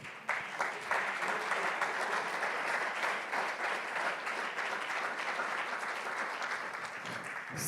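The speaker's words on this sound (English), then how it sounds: "Can we now just give one big round of applause to all our panelists?" An audience applauding the panelists at a conference on refugee and migrant participation, a dense sustained clapping that rises quickly, holds steady for several seconds, then gradually thins.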